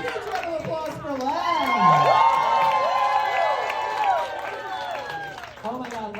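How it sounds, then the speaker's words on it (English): A comedy club audience cheers and applauds after a game segment. Loud whoops and shouted voices rise over dense clapping and swell in the middle before fading back. "Huge round of applause for Len."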